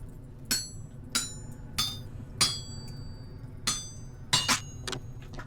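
Iron ingot struck with a hammer on an anvil in the Vintage Story video game, seven sharp metallic clangs with a ringing glassy edge, spaced about every half to one second, close and alone.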